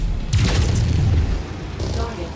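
A heavy, booming explosion rolls out as a target is destroyed in MechWarrior 5: Mercenaries, a loud low rumble that fades, followed by a smaller second burst while a voice speaks over it.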